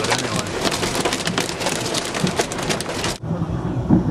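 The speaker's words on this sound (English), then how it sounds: "big or small the hail is, because I can't see, but you can definitely hear it" Hail pelts a storm-chasing car in a dense, loud, crackling clatter on the vehicle's body that cuts off abruptly near the end, leaving a softer rumble.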